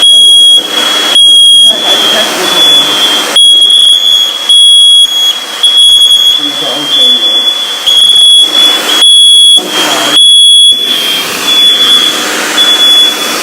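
A FireAngel Wi-Safe 2 smoke alarm sounder under test blares a loud, piercing high-pitched tone in repeated bursts separated by short pauses, close by and dominating the scene.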